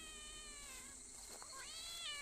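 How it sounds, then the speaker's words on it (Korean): A cat meows repeatedly inside the horror video game Shadow Corridor, drawn-out wavering cries over a low ambient game hum, with no talk over them. "어, 고양이다."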